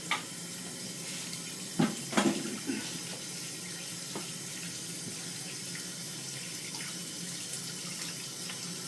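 Warm water runs steadily from a bathroom tap into a sink before shaving, a constant close hiss with a few clunks and splashes near the start, no voices.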